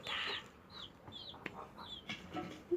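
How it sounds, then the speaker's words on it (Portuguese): Chickens clucking nearby, with several short, bright clucks and chirps scattered across a few seconds over a quiet background, and no talking. "E o galo? Mostra seu rabo aí. A galinha."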